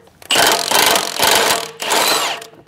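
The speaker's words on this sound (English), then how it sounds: "grab the air hammer and just push down" Air hammer working loose an outer tie rod on an AMG, three loud rapid-fire hammering bursts separated by brief pauses, close and harsh.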